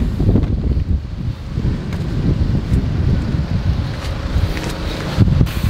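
Strong wind during a sand storm at a hotel, heavy gusty buffeting roar hitting the microphone close up, fluctuating but continuous with a few sharp knocks.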